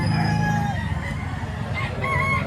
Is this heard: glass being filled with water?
no